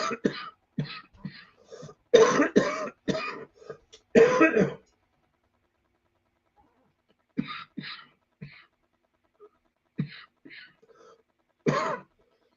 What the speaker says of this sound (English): you can see I got my cough back